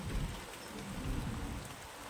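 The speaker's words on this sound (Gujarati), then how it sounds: "મિત્રો વરસાદ બહુ આવ્યો." Heavy rain pours down steadily during work in Gondal, a dense close hiss of a downpour with low rumbles that may be thunder underneath, and no voices.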